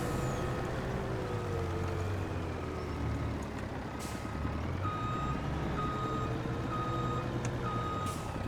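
Truck reverse alarm in Farming Simulator 25 on a farm in Frankenmuth, steady repeated beeps over a constant engine drone, with a brief hiss of air brakes near the middle.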